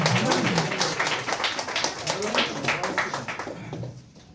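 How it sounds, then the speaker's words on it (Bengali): An audience claps to welcome the chief guest at a ceremony, a dense patter of hands that thins and fades toward the end, with voices talking over it. "একটু জোরদার হাততালি দেবেন প্লিজ।"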